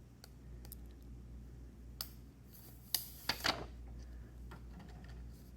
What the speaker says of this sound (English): Let's just continue to unwrap this.